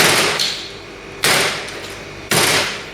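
A heavy knife heel chops through the knuckle bone of a turkey drumstick: three sharp, loud impacts spaced about a second apart, each followed by a fading ring.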